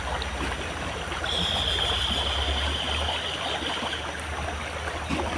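Stream water flows in a steady, close wash of babbling and rushing, with no voices over it and only a faint thin whine briefly above the flow.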